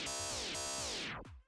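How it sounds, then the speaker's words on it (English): A DJ track brought to a halt with a Serato stop/brake effect: loud music whose pitch slides steadily downward over about a second before cutting out abruptly, followed by a faint tail. "I have my Serato set up so that when I press the stop button, it creates a breaking sound."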